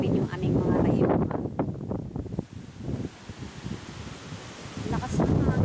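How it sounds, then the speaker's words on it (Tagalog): Strong gusts of wind roar and buffet the microphone, easing briefly in the middle before surging loud again, with faint rustling throughout. "Lakas ng hangin."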